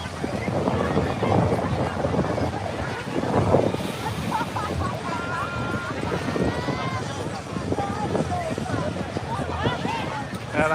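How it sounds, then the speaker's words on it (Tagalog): Surf rolling onto the sand at Coney Island beach in New York, a steady wash of waves mixed with wind buffeting the microphone, with people talking over it. "Yan ang dagat"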